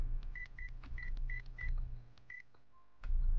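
A phone in a video game dials with a rapid series of short electronic beeps, followed by a pause and a single tone as the call connects, ending in a sudden burst of louder sound.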